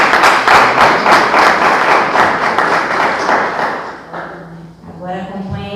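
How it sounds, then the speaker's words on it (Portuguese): A church congregation applauds at a Sunday school Bible lesson, loud dense clapping filling the room for several seconds before thinning out, with a voice beginning to speak near the end. "Você pode aplaudir."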